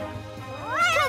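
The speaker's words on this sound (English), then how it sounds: "You silly cat, Pilchard." A cartoon cat gives a short rising meow, clear and close, over a faint low background.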